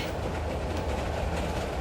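A passenger train runs steadily with a constant rumbling roar and faint rail clatter throughout, loud and close as if heard from inside a carriage.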